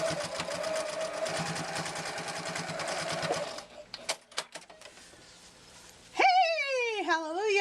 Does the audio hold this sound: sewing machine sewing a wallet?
yes